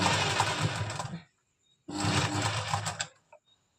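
An electric sewing machine stitches palazzo fabric in two loud close bursts of rapid whirring, separated by a short pause, with a faint click as it stops.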